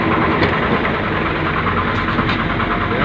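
A Ford diesel engine idles steadily after a glow plug replacement, a loud, close, continuous rumble with an even knocking texture and no talk.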